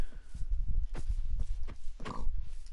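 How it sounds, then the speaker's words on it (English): A pig in the Minecraft video game grunts in a few short, close oinks over a low rumbling game background. "Pig."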